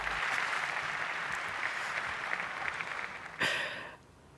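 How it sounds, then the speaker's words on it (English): An audience at a Porsche sports car anniversary show claps in a broad, steady round of applause that fades out after a short, sharp burst near the end. "give him a round of applause, please, ladies and gentlemen"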